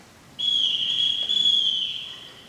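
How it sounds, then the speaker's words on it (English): A single steady blast on a whistle, blown by the captain to summon the children in a high school stage production of The Sound of Music, loud and held for about a second and a half with no talk. "I can't bear being whistled for."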